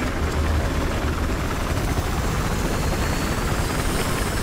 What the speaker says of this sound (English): Chopper to your left.